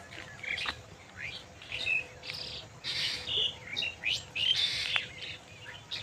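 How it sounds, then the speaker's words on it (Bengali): Various birds chirp and call in open village fields in the morning, with overlapping tweets and short whistled phrases coming steadily from near and mid distance over a faint background hum. "কি সুন্দর ডাকছে দেখুন না পাখিগুলো"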